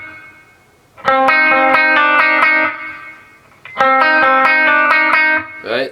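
Electric guitar with heavy distortion and effects playing a riff from a metal song: two loud, dense bursts of rapid picked chords, each lasting about two seconds, with a short pause between them.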